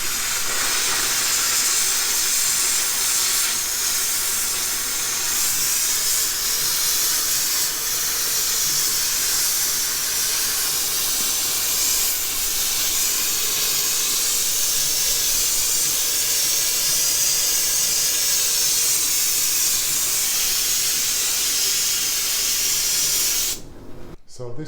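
A Karcher SC5 steam cleaner lets out a loud, steady hiss of steam that runs unbroken for about 24 seconds, then cuts off abruptly at the end.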